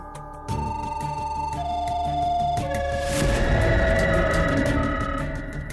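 An electronic ringing tone plays through the handset, a repeating melodic pattern of shifting pitched beeps, steady and fairly close, with no speech.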